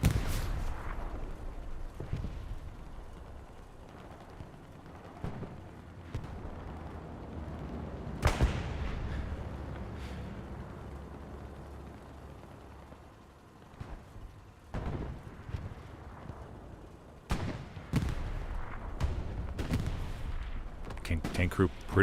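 In the World War II shooter game Hell Let Loose, scattered artillery booms and gunfire bursts sound from mid-distance, with a heavy blast near the middle and a denser cluster of shots toward the end.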